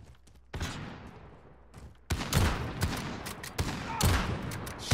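Kar98 sniper rifle shots in a Modern Warfare free-for-all match, sounding as several sharp, loud reports with ringing tails, a burst of gunfire mixed among them, and brief talk in the background.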